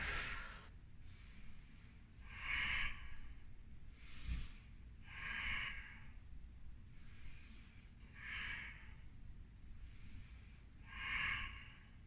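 Someone exhales in steady, rhythmic breaths during a core workout, about six soft, breathy puffs repeating every couple of seconds. They are faint and close, with quiet pauses in between and no talking.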